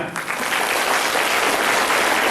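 An audience at a local gathering in Damoh claps loudly and steadily, a dense continuous burst of applause close by that runs the full length without pause.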